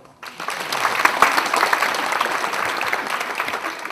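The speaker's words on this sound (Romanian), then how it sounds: "Vă rugăm să-i aplaudăm." A theatre audience at the George Ciprian Theatre breaks into sustained applause, the sound starting abruptly and holding as a full, dense clapping crowd, with a faint murmur beneath.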